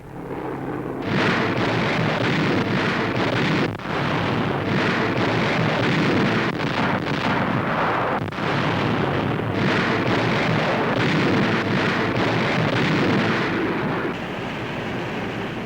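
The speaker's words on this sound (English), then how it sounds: "Land-based bombers drop 70 tons of aerial high explosives on Japanese positions." Heavy aerial bombs from land-based bombers explode on Japanese positions during the Battle of Rendova, a continuous loud roar of rumbling blasts and booms with brief dips, sounding like a dense, sustained bombardment with wind-like rushing noise throughout.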